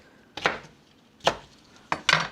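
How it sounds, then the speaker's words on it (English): A knife rough-chops ingredients for homemade chicken salad on a cutting board: three spaced, crisp thuds with short scraping tails, close and moderately quiet, with no talking. "we're going to start out just rough chopping."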